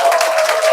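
Audience in a church community gathering clapping together, a brief loud burst of dense, even applause with a voice faintly underneath.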